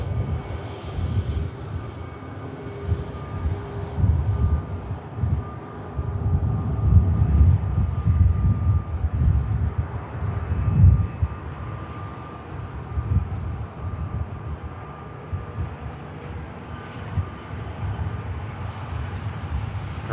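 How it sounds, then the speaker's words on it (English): A Ryanair airliner from Dublin on final approach at Manchester Airport, a broad low engine roar with a steady whine, swelling in the middle and easing off, heard at a distance with no voices. "We have a Ryanair on finals from Dublin."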